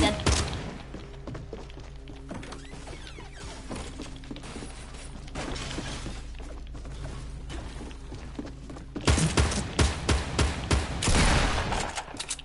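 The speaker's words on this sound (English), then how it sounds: "Oh, that was another grenade." Grenades going off in a PS4 shooter game: repeated heavy thuds and crackling blasts with scattered gunfire, growing louder and denser near the end, over constant game noise.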